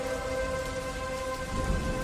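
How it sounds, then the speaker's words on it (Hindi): Rain falls steadily in a soft, even hiss with faint tonal hum beneath, quiet and continuous without voices. "चुपचाप सोगवारी से बरसती बारिश की बूंदों को जमीन में जज्ब होता देखता हूं"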